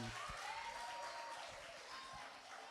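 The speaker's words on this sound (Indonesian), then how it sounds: "Juara 3, tepuk tangan." An audience at a church Bible quiz competition in Malang applauds a third-place finish, a steady, fairly faint wash of clapping from a crowd that stays even throughout.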